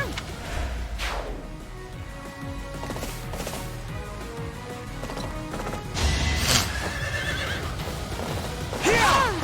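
Horses whinny and neigh in the video game Fire Emblem Three Houses, loud repeated calls over clattering hooves and battle impacts, with a shrill whinny near the end.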